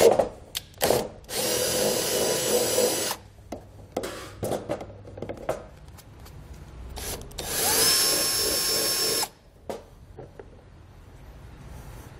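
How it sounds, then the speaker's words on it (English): A power drill whirs in several bursts, drilling holes in a panel for a trailer brake controller, revving up and cutting out, with short taps and clunks between runs, close by and loud. "And drill it out."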